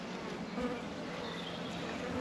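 A dense, continuous drone of honeybees fills the air around an open beehive with honey supers, steady and close throughout with no pauses.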